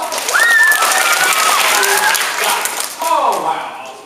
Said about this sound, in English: 2, 3, applause.